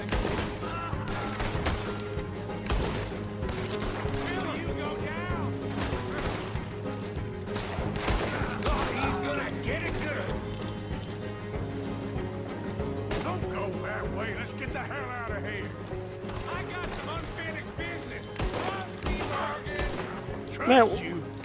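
Gunshots in Red Dead Redemption II, a steady mix of scattered sharp reports and rapid volleys during a shootout, heard close and far, with someone talking over much of the fighting.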